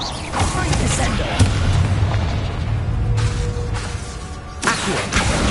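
A Descendo slam spell cast in the video game Hogwarts Legacy lands with heavy, booming impacts that rumble through a dense bed of game sound effects, with a couple of sharp hits near the start and end.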